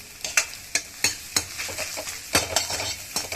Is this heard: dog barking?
no